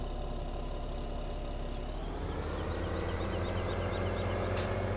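A tractor engine idles in Farming Simulator 17, holding a steady, loud, droning rumble throughout with a slight rise in tone partway through and no talking.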